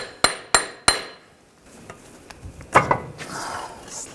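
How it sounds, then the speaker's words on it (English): Three sharp metallic hammer blows on a large punch knock out a front CV axle on a 2009-2017 Volkswagen Tiguan 2.0L, close and evenly spaced, followed by quieter clinks and a louder clatter as the axle pops free. "using a large punch, we're just going to go from the back side. Just give it a tap."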